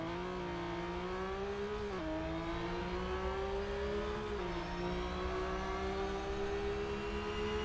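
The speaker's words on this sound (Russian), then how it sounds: "вот у нас Real Racing 3" A racing car engine in the Real Racing 3 mobile game, played on a Samsung Galaxy J5 (2016), hums steadily with a high-revving whine that dips briefly at each gear change, continuous and without talk.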